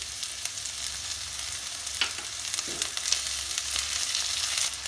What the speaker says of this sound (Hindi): अदरक लहसुन को और 2 मिनट भूनना है।